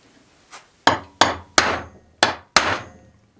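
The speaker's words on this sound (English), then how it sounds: "you need 2 more tools, a centre punch and a hammer" A hammer strikes a centre punch against metal for homemade anchors: one light tap, then five sharp, ringing blows in an uneven rhythm, each decaying quickly, close and clear with no talk.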